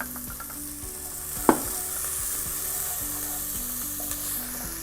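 Carrots sautéing in a pan for a Turkish sour meatball dish, with a steady close sizzle and soft stirring scrapes throughout, plus one sharp utensil clack partway through.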